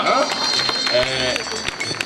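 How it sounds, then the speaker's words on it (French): Applause from a gathered audience crackles through the whole stretch, dense and fairly loud, mixed with crowd noise while a voice speaks over it. "applaudissez pour le moment"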